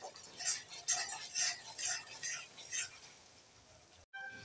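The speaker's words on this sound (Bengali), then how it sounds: "এবার একটু নেড়ে ছেড়ে দিয়ে দেব।" A spoon stirs chicken curry masala with potatoes in a pan, giving soft repeated scraping and clinking strokes at a steady rhythm, close by, with no talk.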